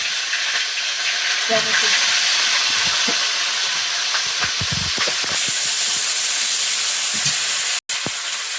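Panch phoron spices, ginger and green chillies sizzle steadily in hot oil in a home kitchen, a continuous close frying hiss with a few clinks of a spoon, while someone talks over it.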